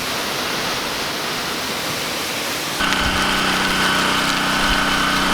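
A pressure washer sprays a Ford farm truck, a loud steady hissing rush of water that steps up into a harsher, fuller roar with a droning pump tone partway through, continuous and close with no talk.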